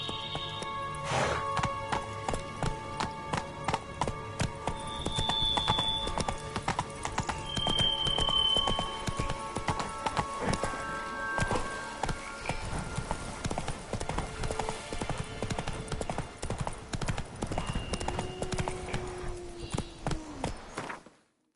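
Roach the horse galloping in the video game Witcher 3, a fast, steady drumming of hooves running throughout with a whinny and clinking tack over it, ending in a brief slowing patter.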